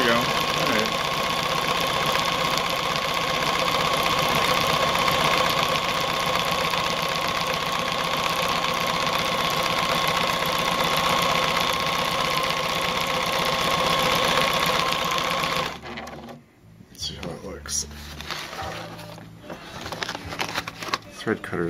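Pfaff 1473CD sewing machine stitching a wide satin stitch, a steady close mechanical whir running unbroken for about fifteen seconds before cutting off into quieter handling noises.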